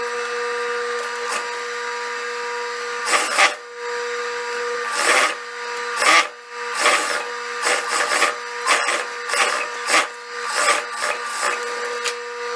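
A sewing machine stitches the hem of a wide-leg jumpsuit, giving a steady close motor whir under repeated bursts of rapid stitching that start and stop several times.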